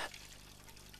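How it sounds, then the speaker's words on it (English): Steady running water pouring and splashing continuously in a blocked sink, close by, with a faint trickle throughout and no voices. "That splashing noise! Someone's blocked the sink!"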